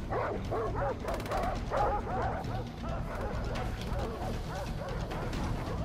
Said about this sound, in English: There's just dogs barking